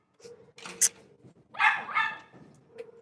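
A puppy barks and yips in a few short, sharp bursts close by, with faint whimpering between them and no talk over it.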